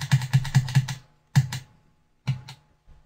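Sharp mechanical clicks from the footswitches of an Empress Superdelay guitar pedal as presets are switched, a quick run of five followed by two more pairs, close and distinct with no voice.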